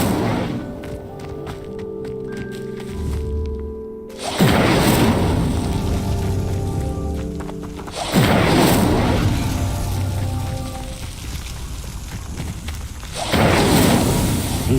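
A fire spell cast in Hogwarts Legacy, deep booming whooshes that swell and roll away, three heavy bursts spaced several seconds apart over a sustained ambient bed with tonal music.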